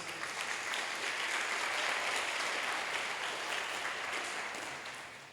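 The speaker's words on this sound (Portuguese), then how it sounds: "Você pode aplaudir por isso?" A church congregation claps in a broad, dense wash of applause that holds steady for several seconds, then eases off at the end.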